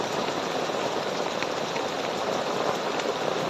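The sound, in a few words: heavy rain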